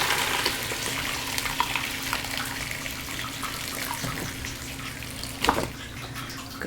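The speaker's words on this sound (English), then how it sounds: "we're just gonna pick up that hefty crock pot and try to pour everything through the strainer" Homemade vegetable stock poured from a heavy crock pot through a mesh strainer into a bowl, a steady close splashing gush that runs without a break and ends in a brief louder slosh near the end.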